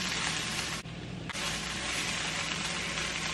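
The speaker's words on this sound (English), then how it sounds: "So we're just wilting the spinach with the onions, and a tiny, tiny smidgen of carrot" Spinach and onions with a little carrot wilting in a hot pan, giving a steady, close sizzle and fry hiss that runs throughout with a short dip partway.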